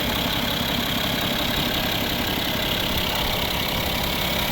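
A 2011 BMW 740d xDrive (F01) 3.0 diesel engine idles steadily and evenly, a constant low rumble with a faint rhythmic knock, close and unbroken for the whole stretch.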